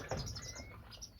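Small birds chirp and tweet steadily inside an aviary in a backyard bird shed, with repeated bright calls over a soft background rustle, close and moderately quiet.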